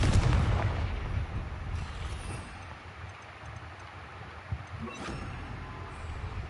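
The Confringo explosive spell in the video game Hogwarts Legacy: a loud, deep blast at the start that rumbles and fades over several seconds, with a lighter magical crackle later on.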